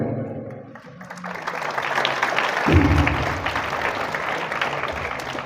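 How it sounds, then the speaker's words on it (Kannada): An audience at a school crime-prevention awareness event led by a police inspector breaks into steady, dense clapping that swells and fills the room for several seconds. "ದಯಮಾಡಿ ಕೇಳಿ ಚಪ್ಪಾಳೆ ತಟ್ಟಬೇಡಿ"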